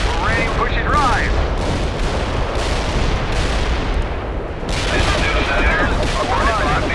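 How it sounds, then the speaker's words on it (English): An artillery barrage in the war strategy game World in Conflict pounds in dense, continuous rolling blasts, loud and close, with voices heard over the bombardment. "Our barrage down, shells on the way."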